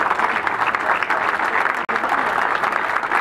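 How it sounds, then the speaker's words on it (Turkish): Health workers at Yalova State Hospital applaud as a protest against violence while moving through the outpatient clinic corridors, a loud, dense, continuous clapping that echoes in the hall with a brief break midway. "Yalova Devlet Hastanesi poliklinik katlarını alkışlarla dolaşan sağlık çalışanları"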